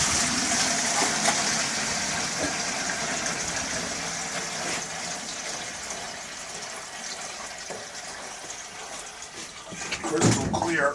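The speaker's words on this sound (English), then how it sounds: "Pour it into the jug" Maple sap poured through cheesecloth into a jug, a steady trickling fill under a faint engine hum, ending with a louder gush; someone talks over it.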